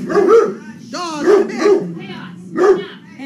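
A dog barks close by in a few sharp, yelping bursts with short whiny gaps between them.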